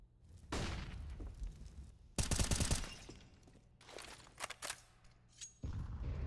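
Gunfire in the competitive shooter Counter-Strike 2 comes as several bursts of sharp, close rifle shots, including one dense rattling spray, separated by quieter gaps with scattered clicks, and no voices are heard.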